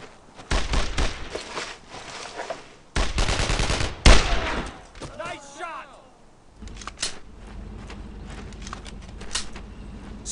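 Gunfire from the World War II video game Brothers in Arms: Road to Hill 30, rapid bursts of shots with loud rattling volleys and gaps between them, mixed with shouted voices and game effects.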